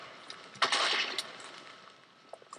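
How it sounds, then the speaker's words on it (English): A sudden burst of blasts erupts in Minecraft, a quick cluster of sharp bangs followed by a fading rumble, with a couple of small pops after. "you can press G and bam, explosions right there"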